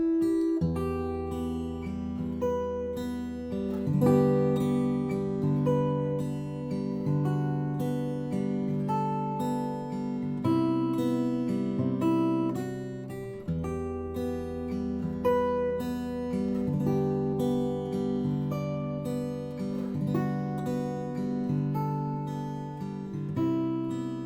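A guitar plays a gentle melody over a flowing chord progression, steady picked notes ringing together in a sustained, even passage with no talking.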